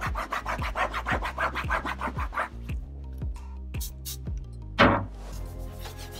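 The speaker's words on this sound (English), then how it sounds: "I'm going to give it a really thorough clean on both surfaces" Rhythmic back-and-forth scrubbing as fabric and vinyl surfaces are thoroughly cleaned, about a dozen regular strokes close up, then slower, scattered wipes and a louder rub near the end, with no talking.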